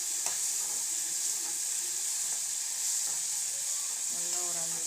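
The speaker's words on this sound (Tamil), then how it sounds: "குடமிளகா போட்டு நல்லா வதங்கணும்." Tomato and capsicum sauté in a pan, giving a steady, even sizzle that stays close and moderately loud, with faint stirring touches and a soft voice-like murmur near the end.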